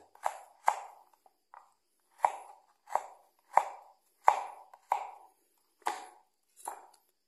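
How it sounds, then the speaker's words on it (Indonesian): A knife slices palm sugar thinly on a cutting surface in about ten separate crisp cuts with short gaps between them, close and fairly quiet, with no talk. "Kemudian gula merah kita iris tipis."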